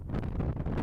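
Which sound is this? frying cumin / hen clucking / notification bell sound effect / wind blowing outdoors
wind blowing outdoors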